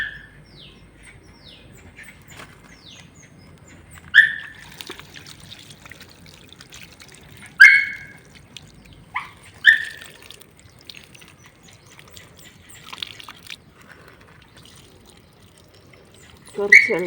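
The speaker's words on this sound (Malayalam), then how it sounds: "എന്നിട്ട് കുറച്ച് വെള്ളം ഇപ്പോൾ ഒഴിച്ച് കൊടുക്കാം." Water is poured onto a freshly transplanted gerbera plant in a pot, making a soft, steady trickle with sharp bird chirps breaking in now and then outdoors.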